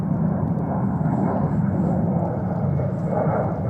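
An Air Serbia Airbus A330-200 airliner roars at JFK airport in New York in winter, its engines giving a steady, broad, low rumble heard from a distance for the full stretch without talk.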